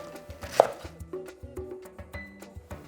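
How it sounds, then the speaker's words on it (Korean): A knife chops cabbage into large chunks on a cutting board while preparing tteokbokki, a quick series of crisp, close thuds in an uneven rhythm. "양배추는 굉장히 큼직큼직하게 썰어주세요"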